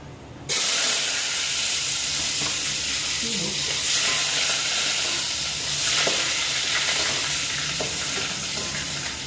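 Ginger drops into a hot pan and fries with a loud, constant sizzle that starts abruptly and holds steady throughout, with faint stirring clatter and scrapes underneath.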